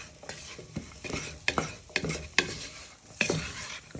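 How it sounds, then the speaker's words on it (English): Ginger, carrots and onions with spices frying in a pan for chicken katsu curry, stirred with a utensil in sharp scraping strokes over a soft sizzle, with several distinct stirs at irregular intervals. "you want to fry your spices in with your ginger, carrots and onions"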